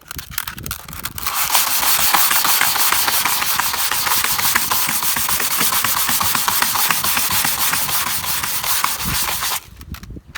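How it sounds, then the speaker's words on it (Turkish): Steady, harsh rasping of coarse sandpaper rubbed back and forth on a plastic car tail light from a Chevrolet Lacetti, close and continuous for several seconds before it stops. "stolumuzu önce kalın zımparayla sonra da bir tık ince zımparayla zımparaladık"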